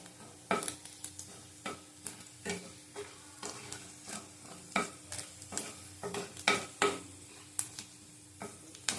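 About half a teaspoon of fenugreek seeds fry in a pan, giving a soft sizzle broken by frequent sharp scrapes and taps from a spatula being stirred, close and fairly quiet with no talking.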